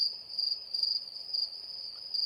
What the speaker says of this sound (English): Are those crickets?